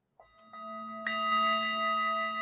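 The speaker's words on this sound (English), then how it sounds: "We'll give the bell and the gong." Bell and gong sound effect played on a livestream: a soft strike followed by a bright ringing bell tone that swells about a second in and sustains with steady overtones, fairly loud and alone.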